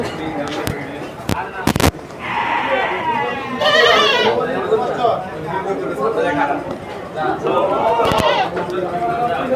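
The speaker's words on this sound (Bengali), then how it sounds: "আজকে প্রচুর পরিমাণে ছাগল আছে বাজারে" Goats bleat in a busy goat market, with wavering cries rising over a steady crowd chatter and a few sharp bangs early on.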